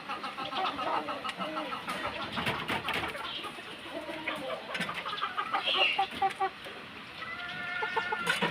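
Backyard chicks and grown chickens clucking and peeping close by in short, irregular bursts, with an engine humming in the background.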